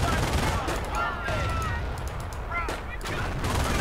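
Game gunfire from a World War II strategy battle in Company of Heroes, with dense, continuous crackling bursts and a booming layer underneath, plus a few short chirpy tones over it.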